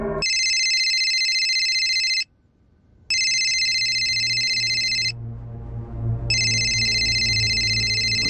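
A telephone rings in a loud, repeating electronic ringtone, three long bursts separated by short pauses, with low room noise underneath and no talking.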